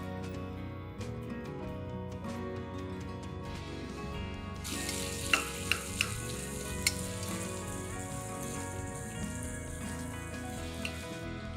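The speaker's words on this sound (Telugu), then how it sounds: "టపటప అంటూనే ఉల్లిపాయలు వేసేద్దాం." Onions frying in a pan for vegetable pulao give a steady sizzling hiss that swells partway through, with a few sharp clinks, while a tonal background hum or music runs underneath.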